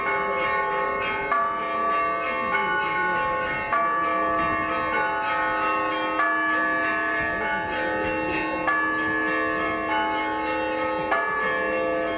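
Church bells ring at St. Nicholas church in Brest during a millennium celebration, with steady repeated strikes roughly every second and a half, each leaving long overlapping resonant tones, loud and close with no talk.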